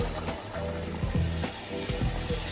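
A single pani puri (fuchka) shell drops into hot oil over a medium flame, giving a steady close sizzle and bubbling with small surges as it puffs, with no talking.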